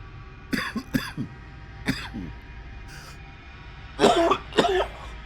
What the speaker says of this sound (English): I wasn't coughing this much until I started reading all this stuff